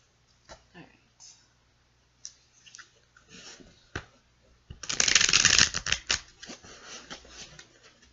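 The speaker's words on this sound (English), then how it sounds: "we're not shuffling anymore" Tarot cards being shuffled by hand, soft papery riffles and clicks, with a louder burst of shuffling midway, mixed with speech.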